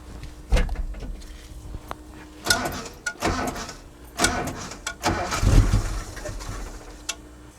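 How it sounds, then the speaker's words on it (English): A Datsun 280Z engine is turned over by hand in a garage, giving a few clunks and ratcheting mechanical knocks spread irregularly across several seconds, fairly close and moderately loud. "So now I'm going to turn over the motor."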